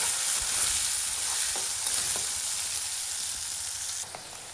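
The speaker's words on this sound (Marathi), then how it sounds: "आता आपण टाकूयात डाळ। डाळीला पण तेलामध्ये छान" Lentils stirred into hot oil with browned onion for a village-style ambadi greens dish, sizzling and crackling steadily and close up, with a few stirring scrapes and the frying easing slightly near the end.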